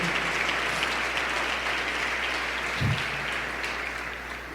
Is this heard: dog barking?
no